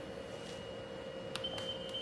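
A hospital bed alarm beeps in short electronic tones as the bed is lowered, faint and sitting over a steady low hum in a quiet room.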